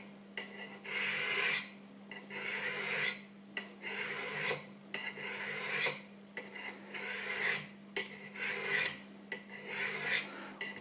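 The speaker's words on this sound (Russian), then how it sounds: "Сразу по звуку слышим, как снимается заусенец, который у нас перекатился на эту сторону." Knife edge rasping in repeated strokes on a Work Sharp WSBCHAGS mechanical angle sharpener as the burr is removed from the second side, about nine steady back-and-forth passes with short pauses, close and alone over a faint steady hum.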